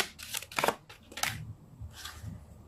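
Tarot cards are shuffled by hand in quick riffling bursts of crisp, papery flicking, close and fairly quiet, with short pauses between the bursts.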